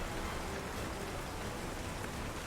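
Rain ambience playing quietly behind a tabletop roleplaying session, a soft, continuous patter of rain with no speech in this stretch.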